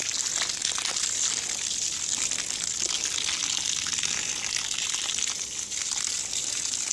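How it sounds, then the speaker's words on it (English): Water pours from a watering can, soaking allotment soil just sown with exotic Portuguese bean seeds beside a bean pole. A steady, close splashing gush runs without a break, with no talking. "So 5 or 6 watering cans completely soak the soil"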